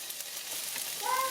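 Chopped onions sizzle in a frying pan, softening toward translucent, with a steady, fairly quiet hiss and a faint stirring scrape near the end.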